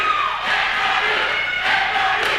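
Crowd at a boys varsity high school basketball playoff game cheering and whooping loudly and steadily, a dense roar of voices with shouts rising near the end.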